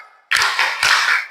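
A classroom of students doing the rhythmic tepuk semangat clapping chant, two sharp loud bursts of many hands clapping in unison, close and alone.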